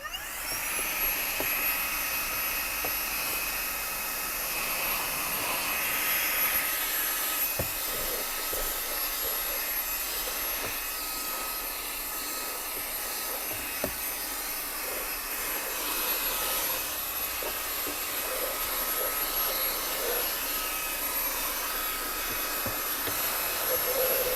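Xiaomi Mi Vacuum Mini handheld vacuum running continuously inside a Porsche car interior, a steady high-pitched whine with airflow hiss and occasional small clicks as it cleans, close and constant throughout.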